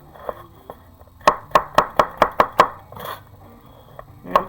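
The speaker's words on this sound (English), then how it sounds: "being fast and making all that chop noise" A knife chopping vegetables on a cutting board, a quick run of about seven crisp, evenly spaced close chops with a few scattered lighter knocks before and after, no talking.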